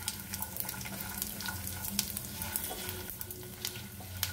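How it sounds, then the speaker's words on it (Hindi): Green cardamom, cloves, broken dry red chillies and cumin lightly roasting in a pan: a soft, steady sizzle broken by frequent small clinks and scrapes of stirring, close and moderately quiet, with no talk. "3 हरी वाली इलायची, 3 से 4 लौंग, 2 सूखी लाल मिर्च को तोड़ के, 1/2 छोटा चम्मच जीरा, इसे हल्का सा भून लेते हैं।"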